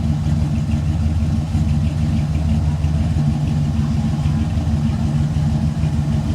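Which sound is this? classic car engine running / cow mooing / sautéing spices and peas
classic car engine running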